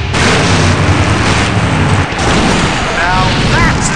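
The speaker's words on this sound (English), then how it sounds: "Now that's an explosion, ladies and gentlemen!" A big explosion finale in the video game Full Throttle, a dense roaring boom with rumbling low end that fills the whole stretch at high level, with music or effects swirling on top.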